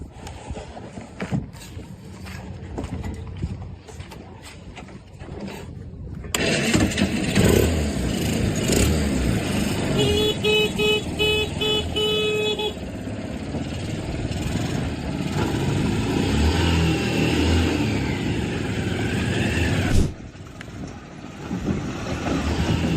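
A homemade car built on a welded metal frame with cardboard panels bolted and screwed on, capable of 40 km/h, drives along, its motor humming steadily with brief revs over a busy background.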